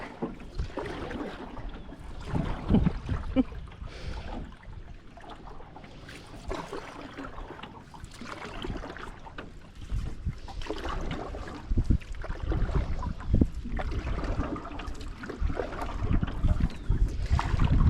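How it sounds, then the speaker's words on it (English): Water laps and gurgles against the bottom of a canoe as it is paddled on a pond, with soft irregular splashes and knocks, some wind, and the level rising toward the end. "there's no better sound than water on the bottom of a canoe"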